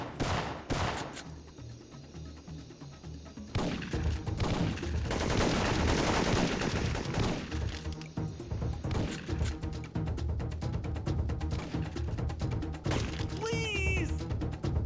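Rapid bursts of video-game gunfire from Syphon Filter, loud, sharp and repeated through most of the stretch, with crashes and impacts and a few game voice sounds mixed in.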